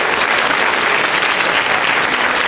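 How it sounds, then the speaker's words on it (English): Steady, loud audience applause at a school district proclamation meeting, continuous dense clapping from start to finish with no voices. "a big round of applause to all of you"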